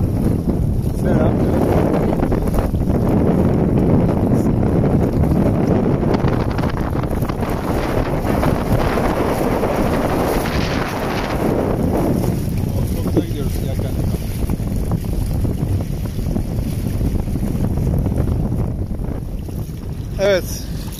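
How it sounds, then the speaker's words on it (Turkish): A sailboat moving through choppy, mixed water near Paşalimanı island, with constant rushing and splashing water and heavy wind buffeting the microphone throughout. "Çırpıntılı, hafif dalgalı, karışık bir su. Şu anda böyle gidiyoruz."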